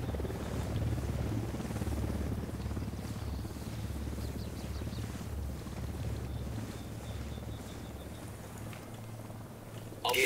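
A helicopter in the video game Ghost Recon Wildlands holds a steady, loud, low rotor rumble that runs continuously, with a faint wind-like hiss above it and no clear talk.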